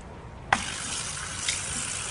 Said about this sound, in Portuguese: Agora você enxágua com água potável.